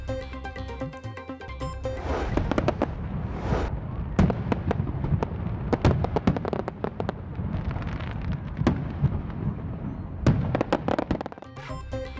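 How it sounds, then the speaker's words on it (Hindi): Independence Day fireworks display over Greater Iqbal Park in Lahore, with sharp bangs and crackling bursts following one another steadily for the whole stretch, some louder and closer, amid a continuous rumble of explosions and wind on the microphone. "रात 12 बजे ग्रेटर इकबाल पार्क में आतिशबाजी के शानदार मुजाहरे की तैयारियां"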